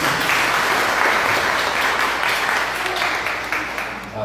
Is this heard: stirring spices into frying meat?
no